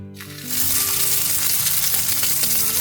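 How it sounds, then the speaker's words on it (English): Steak hits a hot oiled pan and breaks into a loud, close, crackling sizzle of frying oil that holds steady throughout. "Wait for the sizzle here."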